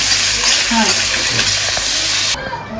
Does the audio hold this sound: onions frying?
yes